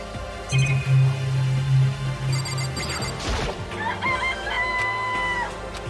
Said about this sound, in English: Okay, this place even has chickens, huh?